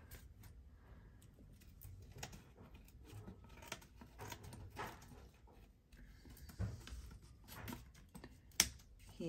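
Quiet, close snipping and clicking as scissors trim paper on a journal cover, small irregular faint strokes with soft rustling in between.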